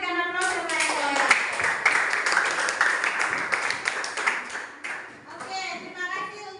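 Classroom applause after a student presentation, a steady burst of clapping hands lasting several seconds before tapering off, with a teacher's voice and some children's speech around it.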